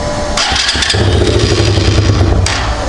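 A Chinese KaYo quad bike engine cranks with a brief rattle, then fires and settles into a loud, close, steady idle for a couple of seconds.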